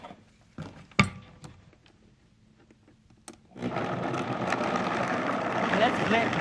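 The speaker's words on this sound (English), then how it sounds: "Okay, let's blend it." A blender whirs into a steady, loud grinding roar partway through, blending soaked almonds with water for almond milk. Brief faint knocks and clatter come before it.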